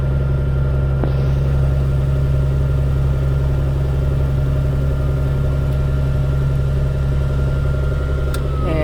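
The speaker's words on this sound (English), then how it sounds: "he just started the left engine." Aircraft engine running steadily during a pre-flight run-up, a loud continuous low droning hum with steady tonal harmonics, no talking.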